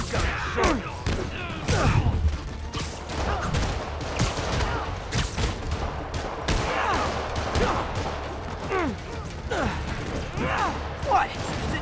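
Rapid volleys of rockets fired in Marvel's Spider-Man, dense repeated blasts and whooshing launches with mechanical clatter and crashes throughout, loud and continuous, with some voices mixed in.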